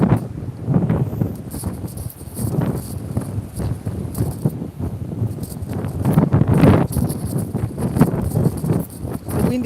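Steady gusting wind at a beach buffets the microphone in loud rolling surges, with a rushing roar that rises and falls throughout.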